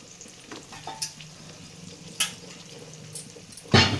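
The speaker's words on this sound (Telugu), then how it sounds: "ఇదిగోండి శుభ్రంగా కడిగి చిక్కుడుకాయ ముక్కలు వేస్తున్నానండి" Washed cluster bean pieces tip into a hot pan and fry, with a soft steady sizzle broken by scraping stir strokes and a sharper burst of hissing at the end.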